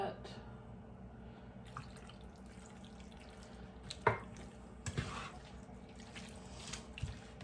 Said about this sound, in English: I think it might need some pasta water. So I'm going to add just a little bit.